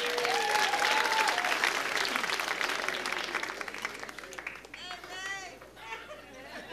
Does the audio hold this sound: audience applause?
yes